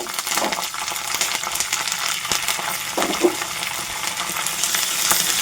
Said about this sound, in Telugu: కాస్త జీడిపప్పు వేస్తున్నాను. కరివేపాకు వేస్తున్నాను.